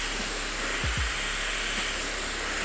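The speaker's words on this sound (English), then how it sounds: "I'm just going to dry that hair." A hair dryer blow-drying hair with a round brush during a salon scissor cut: a steady, loud whooshing blower hiss running without a break, close up, with a couple of faint low thumps and no talking.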